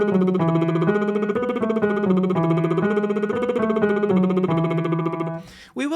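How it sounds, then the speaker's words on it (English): A male tenor-range singer does a lip-trill warm-up, a buzzing lip-vibrated tone stepping up and down a scale pattern steadily and loudly for about five seconds, then stopping with a short breath. "It sounds like this. Lip trill."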